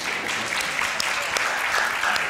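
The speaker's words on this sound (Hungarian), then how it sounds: "Lehet tapsolni attól még." Church congregation clapping together after a prayer invitation, a steady dense patter of hands filling the room at moderate loudness, with a faint voice underneath.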